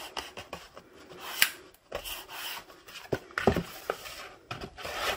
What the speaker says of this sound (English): Burnish before you fold in and glue down.